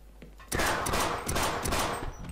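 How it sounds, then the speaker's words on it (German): Pistol gunfire in the video game Half-Life Sven Co-op, a rapid string of sharp close shots following a quieter moment, repeating several times in quick rhythm. "Das ist eine Pistole."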